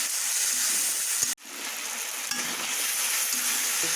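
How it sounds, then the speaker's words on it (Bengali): Turmeric, sugar and dal being stirred together in a hot pan for a Bengali dal chorchori, giving a steady soft sizzle with faint scraping and a few light clinks, close and continuous with no talk. "এবার ভালো করে এগুলো একসাথে মিক্স করে নেব"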